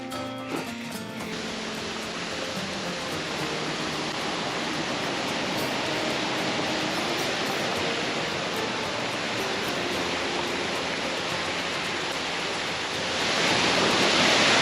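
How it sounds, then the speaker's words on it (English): A waterfall along a New Hampshire backcountry route roars as a steady, broad rush of falling water, continuous and fairly close, growing a little louder near the end. "I've actually stopped here before at this waterfall"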